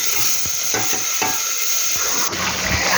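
Tempering of dried red chilli, nigella seeds and white mustard seeds in hot oil: a constant close sizzle and hiss, punctuated by several soft stirring scrapes and small pops.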